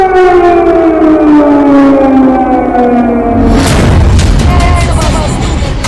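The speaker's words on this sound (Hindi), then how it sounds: "अचानक एक सायरन बजा और पूरा रूस सहम गया।" A loud air raid siren in Moscow wails with a slowly falling pitch, then gives way to a deep boom and rumbling noise.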